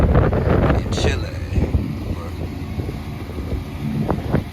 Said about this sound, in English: It's windy and chilly.